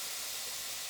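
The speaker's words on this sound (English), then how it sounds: "when it sizzles like that and kind of bounces up, you know that it's ready to go" Water dropped onto a preheated Chef Series pan sizzles with a steady, faint, breathy hiss that holds evenly for about a second.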